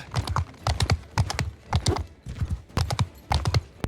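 Horse hooves clip-clop in a fast, regular galloping rhythm while riding in Mount and Blade II Bannerlord, loud and close with brief pauses between bursts.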